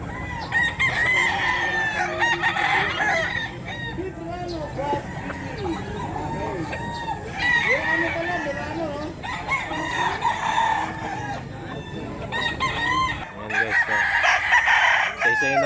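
Stag roosters at the Bocaue pet market crow repeatedly, several loud, strained calls rising above clucking and a crowd's chatter, with people talking nearby throughout.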